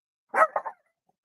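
A single short dog bark in two or three quick yelps sits close and clear against silence.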